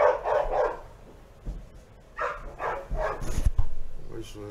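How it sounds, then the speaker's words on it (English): Dogs barking in several loud bursts of barks and yips at middle distance, mixed with people talking over them. "Them damn dogs."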